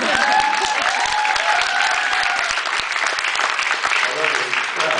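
Convention audience applause fills the room at a Mark Sheppard and Aldis Hodge panel, dense and steady for the whole stretch with faint voices and whoops mixed in.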